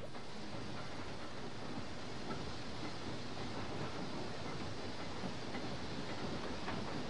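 Steady rumble of a train pulled by a former jetty shunting locomotive, Z1153, rolling along the rails in the Australian desert, a continuous broadband roar with faint clattering, heard from on board throughout.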